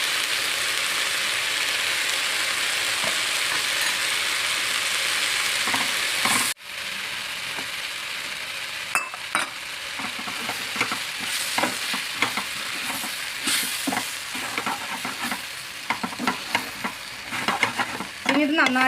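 Ground spices with 1.5 teaspoons of turmeric, garam masala and fenugreek are stirred and heated in a pan for a buffalo beef curry. A steady close sizzle and scrape run throughout, with a brief drop partway, then a busier stretch of clicks and stirring.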